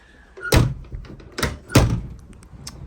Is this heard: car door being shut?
yes